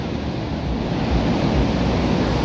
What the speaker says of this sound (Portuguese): o clima aí, Cachoeiro do Urubu, Esperantina Piauí, pancada de água